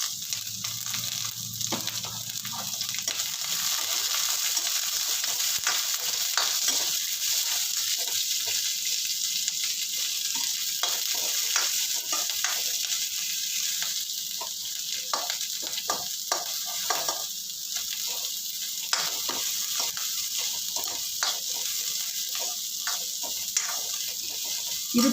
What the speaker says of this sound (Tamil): வெங்காயத்தை போட்டுக்கிறேன். ஒரே ஒரு பச்சை மிளகாய் போட்டுருந்தது, அப்போ தான் நல்லா எண்ணெயில் வதங்கும்.